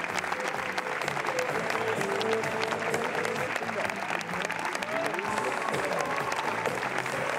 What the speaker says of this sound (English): Eight long minutes of applause for Emmanuel Berko's film De son vivant.